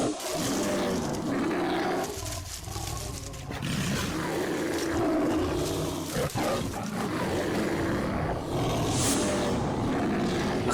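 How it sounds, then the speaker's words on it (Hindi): A tiger roars in a jungle where a leopard has been growling nearby, giving deep, rumbling bursts over a dense, loud wash of wild-animal noise that runs throughout with no talk. "ये तो बाघ की आवाज है।"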